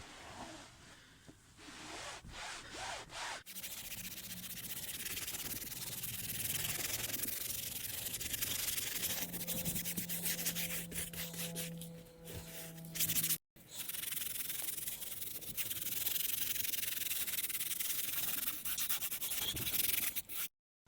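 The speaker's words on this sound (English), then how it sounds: "Now let's get our microfiber towel and just mop this up a little bit." A microfiber towel rubs and wipes across a cloth car seat, making a continuous soft scrubbing swish with rhythmic strokes and one brief pause, close and fairly quiet.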